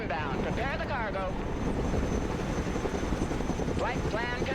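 A cargo helicopter in the military strategy game Broken Arrow gives a steady, loud rotor drone throughout, with radio-style voices speaking over it.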